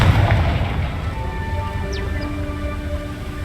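The Confringo explosive spell from the wizarding game Hogwarts Legacy detonates with a heavy, close boom up front, trailing off into a rumbling decay with faint magical shimmering tones.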